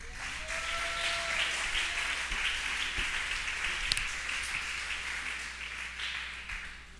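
Church congregation applauding together at a service, a dense, sustained wash of clapping that swells and slowly fades over several seconds.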